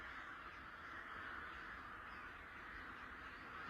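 Huge flock of crows in Japan heard as a dense, continuous wash of cawing, steady and fairly loud throughout, with no individual calls standing out and no talking.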